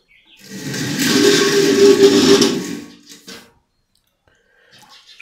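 Hot water gushes from a 1 litre instant water geyser, a loud steady splashing stream for about two seconds, then a few softer trickles and drips before near silence.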